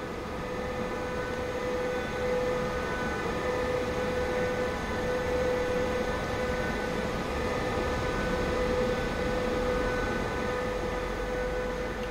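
A simulated BR 101 electric locomotive hauls a Eurocity out of the station between Koblenz and Mainz in Train Sim World 3, a steady droning hum with a constant tonal whine, close and unbroken.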